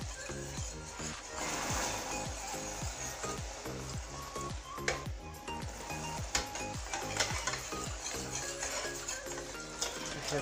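Hot water added to caramel in a pan for île flottante gives a continuous bubbling sizzle and hiss, fairly quiet, over soft rhythmic thumps in the background, with no voice.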